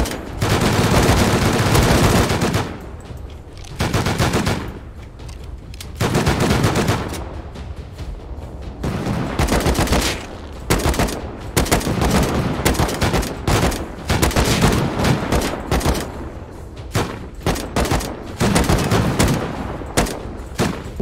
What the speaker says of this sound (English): Trying to do this with an AK is going to be tough